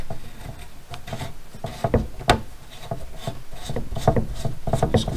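Plastic cap being screwed onto a RAM camera mount converted into a USB power bank, close, dry scraping and ratcheting clicks in an uneven run throughout.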